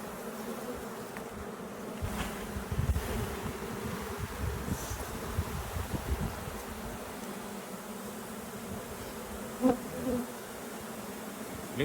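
Honey bees buzz around an open hive in a dense, steady drone, close and continuous, with occasional rustling and a few louder passes near the microphone.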